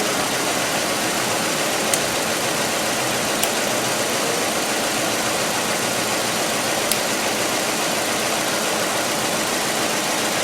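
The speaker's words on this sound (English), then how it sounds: "So that cylinder is now misfiring." A car engine idles roughly with one cylinder misfiring, giving a steady, dense mechanical hum with faint irregular ticks, close and continuous for about ten seconds with no talking.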